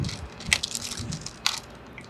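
Someone quietly chews a vegan corn and chickpea bite, with soft crunches and a couple of sharper bites close to the ear, faint and outdoors.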